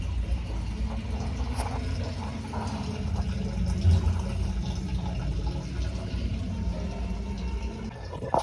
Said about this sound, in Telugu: సో ఈ మ్యాన్ హోల్లో వాటర్ అంటే మనకి సిఫ్టీ ట్యాంక్లో వాటర్ రన్నింగ్ అవుతానే ఉంది